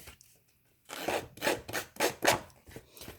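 Paper card edges scraped with a Mahé distresser tool for a shabby-style card, giving five or six close, rhythmic rasping strokes after a brief quiet start, moderately loud and with no voices.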